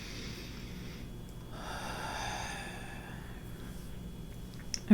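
A slow, deep yoga breath, drawn in and then released in a long exhale, soft and close with a steady airy hiss over low room hum, ending in a brief louder bump.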